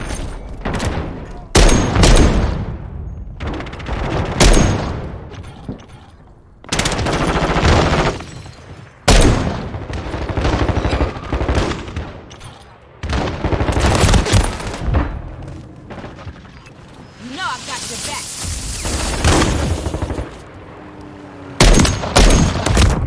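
Gunfire in the Call of Duty MW3 video game: loud, close bursts of automatic fire and single shots come in repeated volleys separated by short gaps, with booming impacts.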